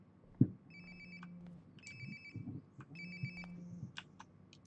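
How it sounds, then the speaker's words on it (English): A phone rings nearby in the video game Life is Strange: Before the Storm, repeated ringtone bursts with a steady rhythm at moderate loudness, under faint background ambience and occasional thumps. "Sounds like my phone is definitely nearby."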